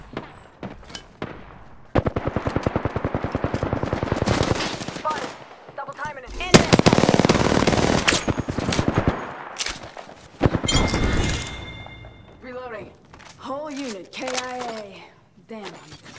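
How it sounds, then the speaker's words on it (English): Rapid automatic gunfire bursts fill a battle royale video game match, loud sustained volleys with brief gaps, mixed with game sound effects and a voice speaking between shots. "I'm getting shot at."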